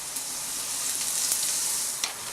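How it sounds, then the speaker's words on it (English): Greens hit a hot pan beside strip steak and mushrooms, giving a dense, steady sizzle and crackle up close, with a few sharper pops and faint stirring, no voices. "we're just going to put our greens right in the pan"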